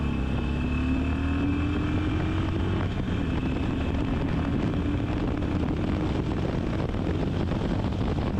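Harley-Davidson Iron 883 (XL883N) motorcycle on a test ride, a steady engine drone with a slowly rising pitch as it accelerates, heavily mixed with wind buffeting on the microphone throughout, no talking.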